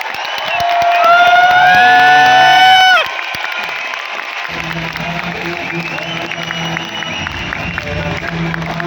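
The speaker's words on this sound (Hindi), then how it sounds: "एक बार फिर सोनू सर के प्रति जो उद्गार आपके अंदर छुपे हुए हैं वो तालियों से और सीटियों से आप जाहिर कर सकते हैं" A large audience at a motivational event in Bapu Sabhagar, Patna, cheers and shouts loudly, then settles into sustained clapping with scattered whistles and whoops, the crowd noise near and dense.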